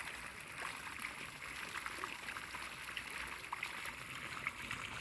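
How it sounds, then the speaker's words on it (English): Water pumped into a pond makes a steady, faint rushing trickle that runs continuously with no break. "here's where they've got water being pumped"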